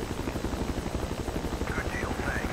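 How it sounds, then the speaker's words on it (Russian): A helicopter in the video game Battlefield 2 thrums steadily with a dense, fast rotor chop and engine whine, loud and unbroken throughout. "Не люблю этот вертолет"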